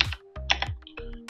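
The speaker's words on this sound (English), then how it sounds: "I'm going to type in apt install" Keys tapped on a computer keyboard while a terminal command is entered as root, a few quick clicky bursts with brief pauses, close and fairly quiet, no talking.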